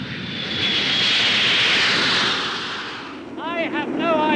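Loud, steady roar of a large aircraft's engines in flight, rising to a sustained peak and easing off slightly before swelling again, with tonal whistling and faint voices toward the end, during a weightless-flight maneuver after a near-vertical dive.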